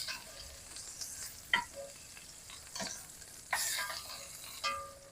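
Beef short ribs brown in a pan with a low, quiet sizzle, marked by a few sharper spits and crackles that flare up now and then.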